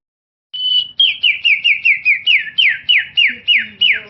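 A boy whistles an imitation of a magpie robin's song, a close, loud series of about a dozen rapid descending whistled notes in a steady rhythm after a short silence.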